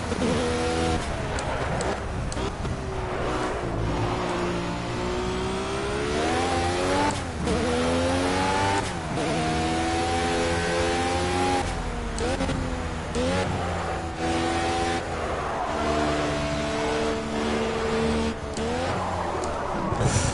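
A Lotus 72 race car laps a track in the Project Cars video game, its engine revving up and down through gear changes continuously and loudly, with tire squeal at moments.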